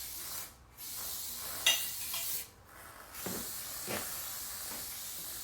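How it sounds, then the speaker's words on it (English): Two long hissing bursts of a spray paint can used indoors, each lasting over a second, separated by a pause, with faint handling noises in between. "we shouldn't be spray painting in the house"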